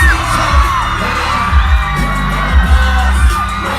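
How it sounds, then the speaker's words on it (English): A loud concert crowd screams and cheers continuously as the band takes the stage, with shrill whoops rising over a thumping low beat. "You hear me screaming."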